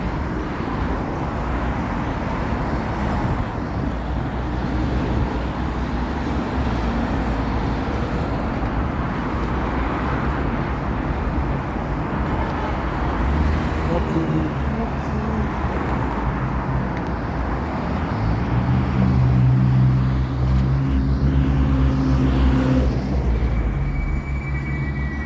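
Steady street traffic with many cars in Amman, Jordan on a cold afternoon: a continuous low rumble and road hiss throughout, with a heavier engine drone swelling near the end.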